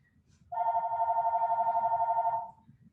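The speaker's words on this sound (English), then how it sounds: "I guess nobody's going to get that phone." A telephone rings once in a quiet room during a slow-flow yoga class, a steady electronic trill lasting about two seconds over faint background noise.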